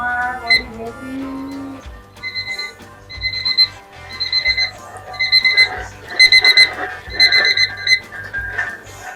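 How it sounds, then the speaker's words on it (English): A kitchen timer set for twenty minutes while blueberry jam is made with pectin rings out in repeated bright electronic beeps, loud and close, in steady bursts that run through the clip. "So I'm going to set my timer for 20 minutes."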